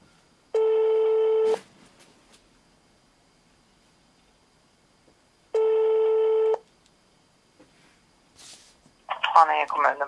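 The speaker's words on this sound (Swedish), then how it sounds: "Jag ringer på Malin här, varsågod." Two evenly spaced telephone ringback tones, each about a second long, sound while a call is placed in Sweden, followed by near silence and then a voice answering at the end.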